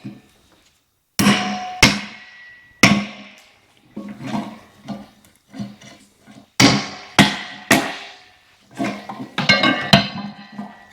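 A club hammer strikes a metal kindling cracker about ten times at uneven intervals, each sharp clang ringing briefly before fading, close and loud with no voices.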